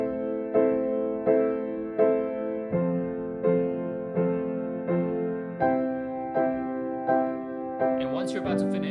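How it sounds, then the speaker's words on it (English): Piano repeating block chords in steady even strokes, each chord struck four times before shifting to the next, close and alone, with a faint brief noise near the end. "So level 1 is where we're gonna play each of these block chords for 4 times before we move on to the next one."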